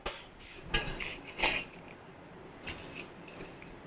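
A crispy lachha paratha is handled with tongs on a griddle over a flame, giving a few sharp metallic clinks and crackly scrapes spaced unevenly over a low background hiss, with no talking.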